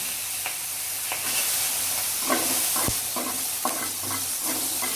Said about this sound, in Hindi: प्याज को ब्राउन होने तक भून देंगे